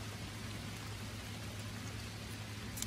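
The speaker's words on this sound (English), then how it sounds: "it's starting to rain here" Rain falls beneath a big tree, a steady and even patter of close drops hissing without pause beside a kayak anchor-line project, with a low hum underneath and no voices.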